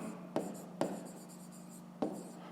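Pen scratching steadily on paper while a maths exercise is worked out by hand, a continuous close scraping broken by three sharp tap-like strokes, with no talking.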